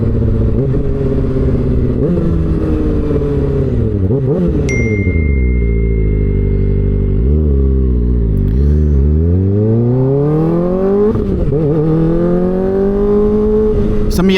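A motorcycle accelerating through gears, its exhaust revving up in rising sweeps and dropping back between shifts, very loud and close, continuous throughout.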